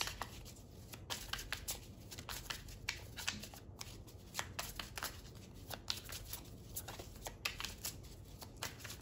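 Tarot cards are shuffled and pulled from the deck, a quiet, close, continuous riffling and flicking of cards with soft snaps, without speech.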